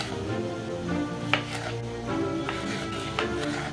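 A knife chops food on a cutting board for a chicken marinade, a few sharp, irregular taps close up over a background of kitchen hum and faint clatter.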